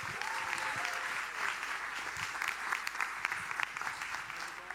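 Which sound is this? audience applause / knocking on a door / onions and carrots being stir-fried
audience applause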